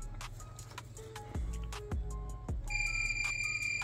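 A multimeter probing a shorted SSD and NAND power area on a MacBook Pro logic board gives a few faint clicks, then a steady, high electronic continuity beep that holds to the end.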